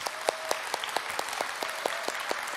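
Church congregation applauding the youth worship team at an Easter Sunday service, a steady wash of many hands clapping with sharp individual claps popping out at a regular pace, no talk over it.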